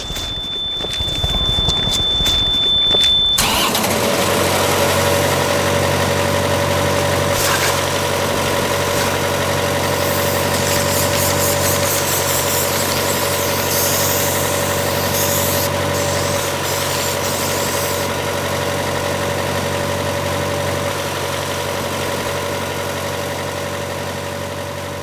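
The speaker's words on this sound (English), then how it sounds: "just try and listen and see if you can hear the engine" A steady, rumbling locomotive engine idles continuously at close range in a rail yard, a low droning hum with a constant mechanical tone and no voices.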